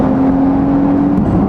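Close, loud engine note from a Porsche 992 911 Carrera S with a manual gearbox, a steady whirring drone holding a constant pitch, then a quick auto-blip rev match that shifts the tone just before the end.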